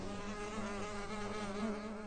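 Honeybees swarm to attack a woodcutter in a cartoon, a dense continuous buzzing drone that stays steady and fairly loud throughout, with no voices over it.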